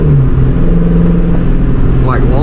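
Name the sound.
2004 Mustang GT loud Borla S-Type exhaust revving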